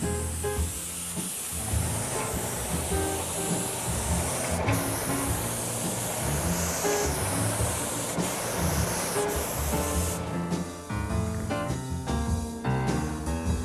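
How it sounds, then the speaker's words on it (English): Spray gun laying a finish coat onto furniture pieces, a steady close hiss running throughout with brief interruptions and some faint clatter near the end. "Now let's spray."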